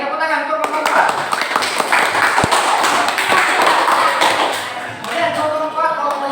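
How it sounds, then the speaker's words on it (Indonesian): Classroom applause for group 4 breaks out: many hands clapping in a dense, lively burst for several seconds, close, with a voice speaking over it before and after. "Oke, tepuk tangan untuk kelompok 4."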